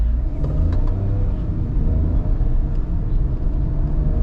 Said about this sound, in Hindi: तो अब गाड़ी को कर लेते हैं ड्राइव मोड पे और गाड़ी की परफॉर्मेंस देखते हैं।